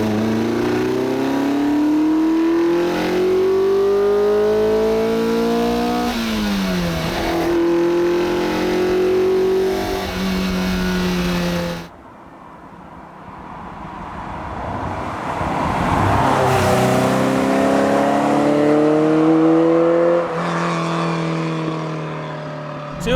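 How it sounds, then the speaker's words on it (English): A 1979 Ferrari 308 GTS V8 revs hard while driving, climbing through gears with repeated rising pitch sweeps, a brief lift-off dip midway, then pulling strongly again, loud and close. "let's give you some Ferrari noises"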